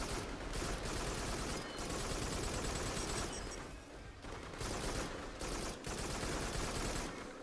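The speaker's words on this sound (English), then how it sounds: "let's shoot some stuff" Dense bursts of rapid gunfire in the VR shooter Farpoint, played co-op, run loud and nearly continuous, broken by a few brief gaps.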